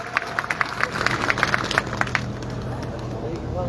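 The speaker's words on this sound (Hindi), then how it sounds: "जोरदार तालियों से स्वागत करें" Crowd at a political rally in Balotra clapping for several seconds, with sharp individual claps rising over a steady murmur of people and background noise before the clapping thins out.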